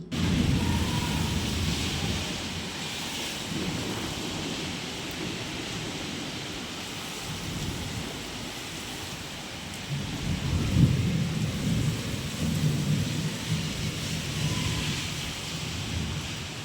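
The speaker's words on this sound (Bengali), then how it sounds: "হচ্ছে শিলাবৃষ্টি" An afternoon hailstorm roars as a steady, dense wash of falling ice and rain, with deep rumbles of thunder rising and fading, heard alone without voices.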